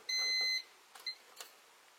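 A single electronic beep sounds for about half a second, followed by a brief chirp and a few faint clicks.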